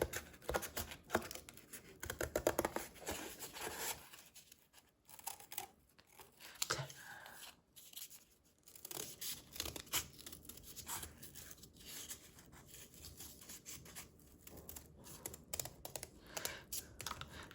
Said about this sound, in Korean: 가위를 이용해서 한번 잘라 보겠습니다.